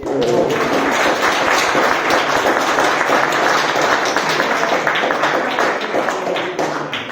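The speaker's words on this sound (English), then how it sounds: "let's give him a round of applause" Applause at an annual general meeting for a long-serving member, a loud, sustained patter of many hands clapping at close range that continues steadily and tapers slightly near the end.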